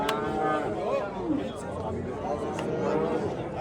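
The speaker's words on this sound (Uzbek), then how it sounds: "mana sigirlar" Cows lowing at the Andijan Khojabod cattle market, a drawn-out moo rising over steady crowd chatter and background bustle, with people talking throughout.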